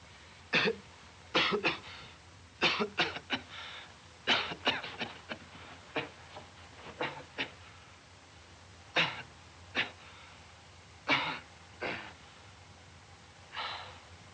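A series of short, dry coughs repeated irregularly at moderate distance, quiet background between each fit.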